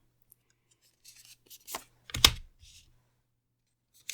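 A few quick papery riffles and soft slaps of tarot cards being shuffled close by, in short bursts with quiet gaps between.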